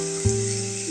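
Ginger garlic paste, two spoonfuls, hits hot oil in a pan for a prawn and coconut curry, giving a short burst of sizzle that settles into a steady, close, moderately loud fry with no talking.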